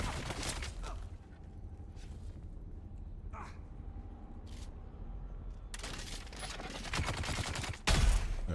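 Shielded heavy gunner firing in Dune: Awakening, bursts of rapid gunshots at the start and again later, loud and near, with quieter game ambience between.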